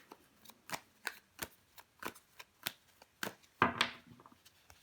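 Tarot cards are handled on a table during a reading, with a steady run of soft slaps and flicks as cards are laid down one after another, then a brief louder shuffling riffle near the end.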